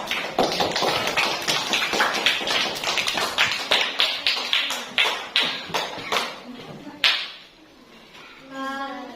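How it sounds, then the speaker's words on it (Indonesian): A run of sharp, evenly spaced taps like loose clapping from a small group of students applauding a class presentation, close and steady for about seven seconds before fading into quiet. "Tepuk tangan untuk kelompok 2 juga."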